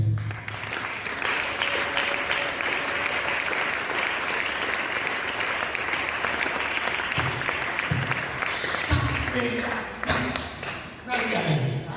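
A church congregation applauds during a service, sustained dense clapping from many hands that fills the whole stretch, with voices speaking and calling out over it and a few louder thumps near the end.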